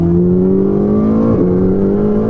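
A loud, droning Ferrari 488 GTB engine roars steadily inside the cabin, its pitch climbing gradually with a brief dip mid-way as it shifts.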